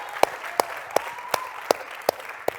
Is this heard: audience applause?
yes